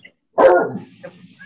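A dog lets out one loud, close bark in a house, and a fainter whimper or yip trails after it, with near silence before the bark.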